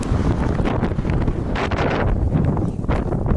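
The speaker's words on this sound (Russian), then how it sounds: "Ой, какой ветер-то, кошмар!" Strong wind roars and buffets the microphone continuously, a loud rumbling rush with gusty surges throughout.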